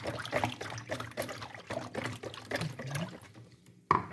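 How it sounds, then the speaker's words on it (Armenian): Water trickling and splashing as it is poured into a bowl of pancake batter made with milk, a soft continuous pour ending in a brief sharp clink. "Ավելացնում եմ ջուր"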